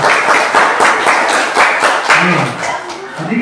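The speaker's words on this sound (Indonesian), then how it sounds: "Oke, tepuk tangan dulu." Children in a primary school classroom clap together, loud and close, in a quick rhythmic burst, with a few voices rising near the end.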